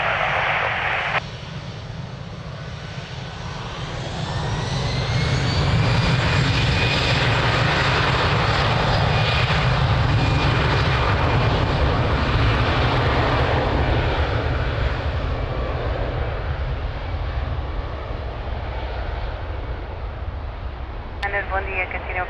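Aircraft at Lisbon Airport roaring through a takeoff on runway 02, a loud, sustained jet engine rumble that rises after a few seconds and holds steady, with radio chatter from the control tower in the mix.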